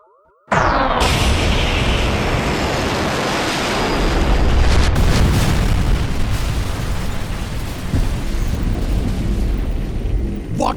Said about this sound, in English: The captured ship was destroyed before it could fire on the tower.